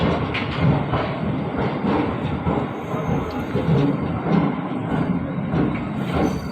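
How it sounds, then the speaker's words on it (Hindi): A train pulls into platform 6 of an Indian railway station at night on a Dehradun to Amritsar journey: a loud, continuous rumble of rolling wheels and carriages with faint rail squeal, close by and without speech. "और हमारी ट्रेन जो आई है वो आई है प्लेटफॉर्म नंबर 6 पे"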